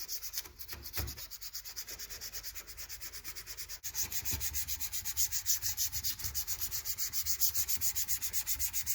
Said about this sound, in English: Now I'm going to scrape this and get it as clean as I can.